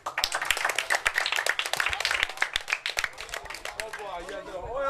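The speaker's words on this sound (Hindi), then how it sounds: "पप्पू भाई प्लीज़ ज़रा इनके लिए तालियां" Scattered audience clapping at a stage event with a prize being presented, sharp individual claps in an uneven rhythm, mixed with voices and background talk that rise toward the end.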